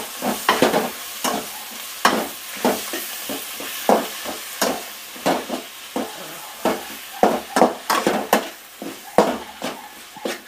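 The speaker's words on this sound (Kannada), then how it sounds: "ಟೊಮೆಟೊ ಹಣ್ಣು ಹಾಕ್ಬಿಟ್ಟು ತಿರುಗಿಸ್ಬಿಡುವ" Tomatoes stirred and frying in a pan for a tomato gojju, with repeated scraping and stirring strokes over a steady sizzle, close and fairly loud, no voices.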